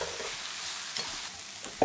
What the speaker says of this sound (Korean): 가지의 수분으로 볶아주세요.